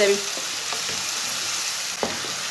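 Chopped tomatoes and green chillies frying in a pan, a soft steady sizzle with a few light scrapes and taps of a spoon stirring, moderately close and without talk.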